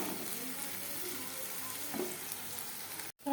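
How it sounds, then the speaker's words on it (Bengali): Potatoes frying in a pan, being crisped, give a steady close sizzle that runs for a few seconds and cuts off briefly near the end. "আলু ভাজাটা মোটামুটি আবার হয়ে গেছে। এই যে এখন মচমচা করবো"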